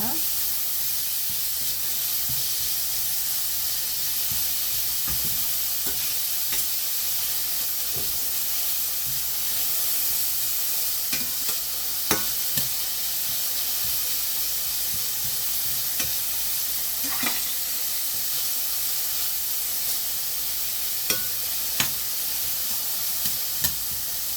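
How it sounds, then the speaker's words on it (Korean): Carrots stir-fry for japchae in a pan, giving a steady sizzle and hiss with occasional scrapes and knocks of stirring. "당근을 볶아주겠습니다."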